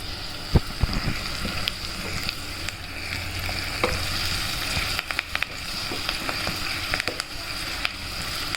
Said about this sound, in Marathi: व्यवस्थित ब्राऊन कलर होईपर्यंत त्याला छान फ्राय करायचं आहे. हिंग घालायचं आहे आणि छान हलवून घ्यायचं त्याला.